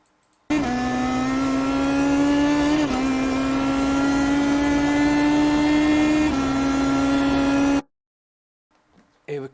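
A race car accelerating hard on the Barber track: a loud, close engine roar climbing steadily in pitch, broken by two brief gear-shift dips, then cutting off abruptly into near silence.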